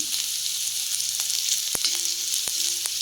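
Vegetables with carrot stir-fry in a pan as pepper powder goes in, a steady bright sizzle running throughout with a few sharp clicks of a stirring spoon against the pan.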